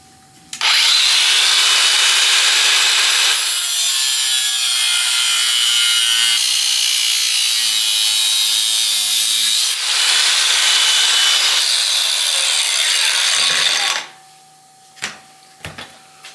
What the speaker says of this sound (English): I'll just cut this shorter piece here that I'm gonna weld.